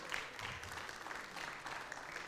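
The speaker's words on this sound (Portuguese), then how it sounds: "Vamos dar um aplauso para os holandeses aí" A church congregation applauds, soft and distant, a brief patter of clapping under room noise.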